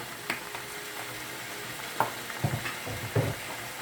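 Mushrooms frying in a pan, a soft steady sizzle with occasional stirring clinks and scrapes, close and alone without speech.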